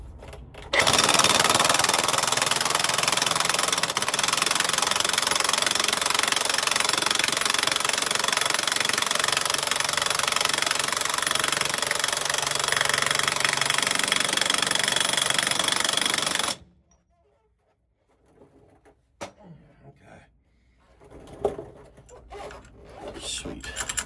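An impact gun runs a new nut up tight on a vehicle drive shaft while center bearings are being replaced, a loud continuous hammering rattle for about sixteen seconds that then stops, leaving faint shop clatter.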